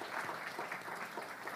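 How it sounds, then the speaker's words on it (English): A brief burst of audience clapping sounds at a symposium opening, dense and steady for its short span. "Can we have a round of applause for Netanyahu?"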